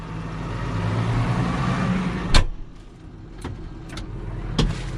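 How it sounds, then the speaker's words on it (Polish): An Audi car drives up from behind, its steady road and engine rumble filling the first half before fading, with a few sharp knocks and clicks breaking the quieter stretch after. "Audi jedzie z tyłu"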